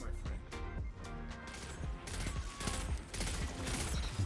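Pulse rifle fire in a first-person shooter video game, rapid bursts of gunshots with mechanical clatter, loud and continuous over busy game action.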